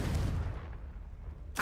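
A Confringo blasting spell in Hogwarts Legacy lands with a low, rumbling boom that quickly fades into a quiet tail. A short sharp burst follows at the very end.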